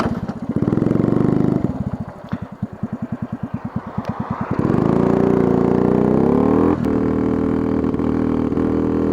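A BMW motorcycle engine runs close by after warm-up and a carburetor adjustment, a steady drone giving way to a rapid chugging putter, then rising into a smoother, louder rev that settles into a strong steady run.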